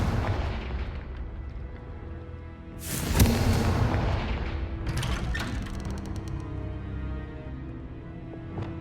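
Confringo fire spell blasts in Hogwarts Legacy, a loud booming explosion followed by rumbling crackle and a few sharp bursts over a steady low game ambience.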